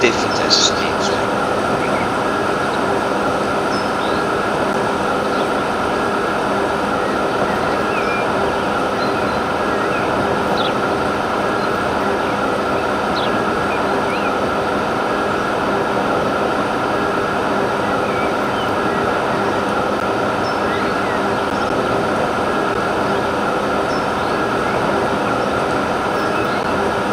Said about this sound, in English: Something different as a steam train.